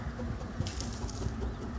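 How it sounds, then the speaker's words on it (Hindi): Birds, likely pigeons, fly and call over a waterlogged street on a foggy day, giving faint, soft coos that are partly masked by steady outdoor noise. "पंछी उड़ रहे हैं।"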